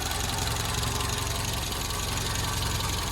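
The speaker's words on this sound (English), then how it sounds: "So that's the engine now running." A 1983 Renault Trafic van's C1J engine idles steadily after an exhaust manifold leak repair, a constant low rumble with a fine mechanical ticking, unbroken and close.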